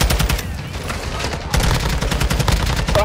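Dense, rapid video game gunfire, bursts of loud automatic shots running continuously with a short break midway and no talk over it.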